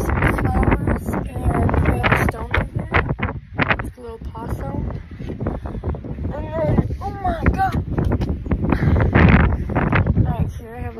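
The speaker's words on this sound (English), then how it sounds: "So it's so windy." Strong outdoor wind buffeting the microphone, a constant loud rumbling roar under a person talking throughout.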